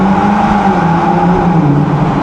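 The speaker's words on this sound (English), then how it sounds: "let's drop it and run it through the rev range a little bit" A Ferrari Roma Spider engine roars loudly and steadily through the rev range in a tunnel, with strong low rumble and road noise, echoing, with no talking.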